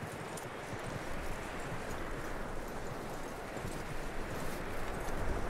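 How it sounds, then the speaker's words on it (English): Horse hooves clop steadily at a trot across ground in Red Dead Redemption 2, a continuous, fairly faint rhythmic patter under a broad rushing background, with no clear whinny standing out. "That looks like a decent horse. You should keep him."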